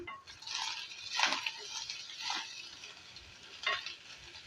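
A spoon stirs cooked rice into fried onions in a pan, making a few soft scraping and sizzling swirls with brief clinks, close but fairly quiet and without talking.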